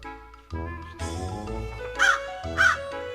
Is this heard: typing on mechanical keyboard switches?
no